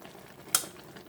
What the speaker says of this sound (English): So continue boiling it,